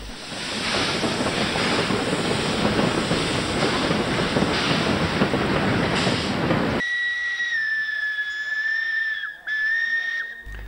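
Preserved steam locomotives, an 1870-built 0-6-0 and a 1900-built 4-4-0, running in Eastern Europe: a loud, steady roar of steam and exhaust for several seconds, then a sustained high whistle sounding close by.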